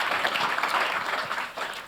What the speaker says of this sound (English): feels weird you guys are applauding that